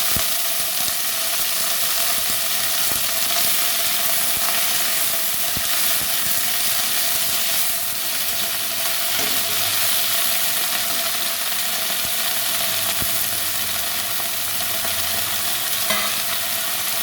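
Continuous loud sizzling of kharkol leaves frying in a pan with garlic, a dense steady hiss with faint stirring and scraping underneath, no talking.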